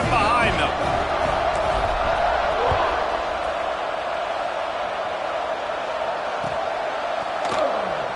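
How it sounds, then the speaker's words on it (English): College football crowd in the stadium before kickoff of Memphis vs Stanford, a broad steady roar of cheering and noise throughout, with a commentator talking over it. "They're set to kick it off, and this crowd now ready to get behind them."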